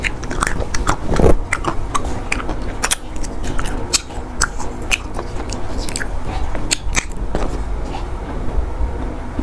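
Someone eats a crunchy food up close, loud and continuous, with frequent crisp bites and crackling chews layered over one another and no clear talking.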